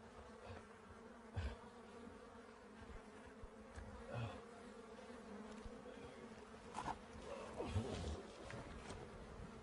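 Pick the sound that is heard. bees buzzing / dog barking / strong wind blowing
bees buzzing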